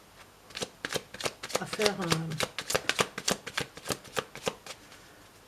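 A deck of tarot cards being shuffled, giving a rapid run of crisp riffling flicks at close range, with someone speaking briefly in French over it.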